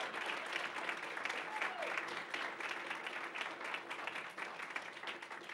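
An audience at a school board meeting applauds steadily and loudly for several seconds as the crowd cheers on someone being honored.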